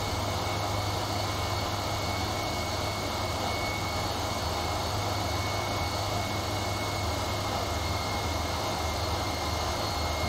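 Steady, loud jet engine drone inside a simulated airliner cockpit in the X-Plane 11 flight simulator, Boeing 737-800 or A320 type, a constant broadband roar with a faint tonal whine and no talking.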